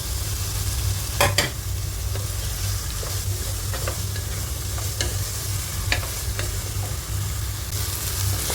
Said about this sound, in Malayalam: ഇതുകൂടി നന്നായിട്ട് ഇളക്കാം ഇനി നമ്മൾ എടുത്ത് വെച്ചിരിക്കുന്ന പൊട്ടറ്റോയും കൂടി ചേർത്ത് കൊടുക്കാം